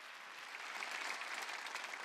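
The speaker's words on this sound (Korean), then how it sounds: "박수 치라 이게야." A church congregation claps together during a sermon, a dense, even burst of many hands that swells slightly and continues for about two seconds without any voices.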